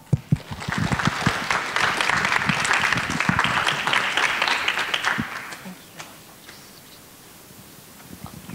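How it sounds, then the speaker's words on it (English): A lecture audience at a Laura C Harris Series talk applauds the introduced speaker: dense, steady clapping fills the room for about five seconds, then fades to near silence. "please give Dr. Olena Nikolayenko a round of applause."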